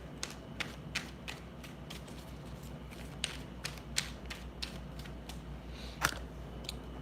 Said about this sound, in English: Knocking my camera around